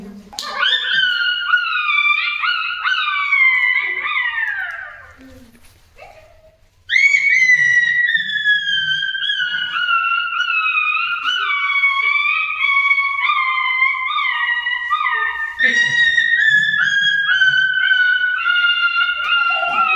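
A seventh-grade boy at a school children's day program uses his voice to imitate a dog, producing long, loud, wavering howl-like cries in a few drawn-out bursts with a short pause between them.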